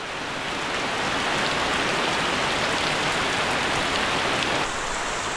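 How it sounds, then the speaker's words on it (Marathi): Heavy monsoon rain pours down in a Konkan village, a dense, continuous roar of drops hitting the ground and roofs, steady and loud throughout with no voices. "धो पाऊस पडतो आहे रात्रीपासून कालपासूनच धो पाऊस पडतो प्रचंड पाऊस आहे"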